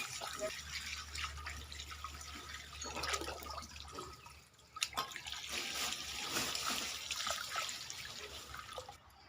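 Hose water sprays steadily over freshly dug wild yam tubers, washing off the clinging soil, a continuous splashing wash with a low hum underneath and brief drips and knocks partway through.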